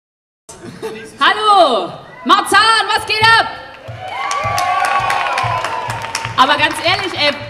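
Festival crowd at the Fête de la Musique 2021 opening event in Berlin-Marzahn, cheering, whooping and clapping in bursts, with a loud sustained roar in the middle and voices shouting over the noise.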